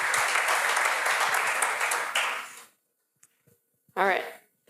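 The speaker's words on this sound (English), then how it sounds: "applause, please, to Stefanie." An audience claps steadily for a couple of seconds, then the applause fades to silence before a brief voice.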